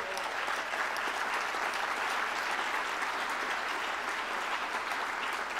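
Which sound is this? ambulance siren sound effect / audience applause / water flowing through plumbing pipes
audience applause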